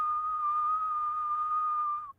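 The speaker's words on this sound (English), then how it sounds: "I've got a pretty good loud whistle." A person gives a single loud, sustained whistle on one steady pitch, close and clear, lasting about two seconds before cutting off.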